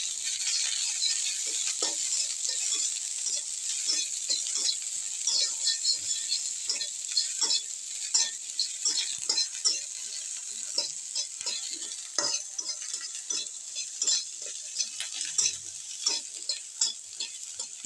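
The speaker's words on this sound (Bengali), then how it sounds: "এবার আমি পেঁয়াজ আর রসুনটা দিয়ে দিলাম," Onion and garlic frying in a pan after chilies were fried, an even high sizzle under a busy run of crackles and spatula scrapes as they are stirred, close and with no voices.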